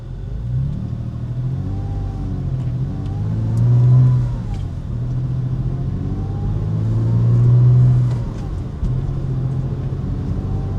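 A Porsche Boxster with a swapped engine runs on the road, its engine humming steadily with two smooth swells of acceleration and easing off between them, heard from inside the car at moderate loudness.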